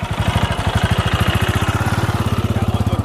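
A motorcycle engine idles close by, its rapid, even chugging pulses running steadily throughout at a loud level.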